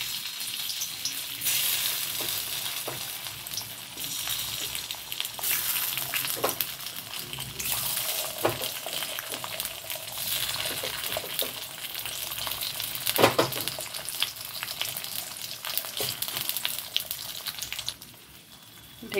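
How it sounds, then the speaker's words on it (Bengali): Cornflour-coated potato slices fry in hot oil, giving a steady, dense sizzle that stays loud and close for the whole stretch, with occasional bursts of crackle and no voices. "এবার এগুলোকে ভেজে নেব। তেল গরম হয়ে গেছে,"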